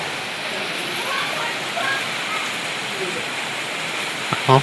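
Heavy rain falls in a steady, dense wash of hiss that holds at even loudness throughout, with a faint knock near the end.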